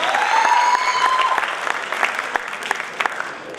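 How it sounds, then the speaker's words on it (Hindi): Applause from a theatre audience at a comedy stage play, a dense wash of many hands clapping that stays steady, with a thin sustained tone fading early on and scattered louder claps near the end. "तो जोरदार तालियां इधर आपके लिए"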